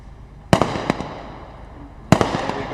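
Two sharp gunshots from a SWAT team's rifles at a competition range, the first about half a second in and the second roughly one and a half seconds later, each loud, close and followed by a brief echo.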